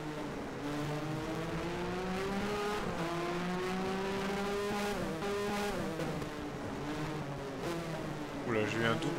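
A 1985-season Formula 1 race car in the F1 Challenge video game, its engine droning steadily and then surging twice in quick succession as the revs wobble, with a rising whine at the end.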